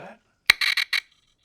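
A sharp click sent through an Airwindows Chamber reverb plugin, followed by three quick bright slapback repeats that fade fast, after a brief snippet of voice at the start.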